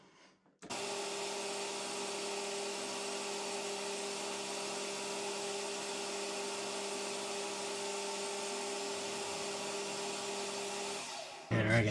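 A loud, steady whine with a constant tonal hum from a lathe cutting a 15-degree chamfer, starting abruptly and running unbroken for about eleven seconds before stopping.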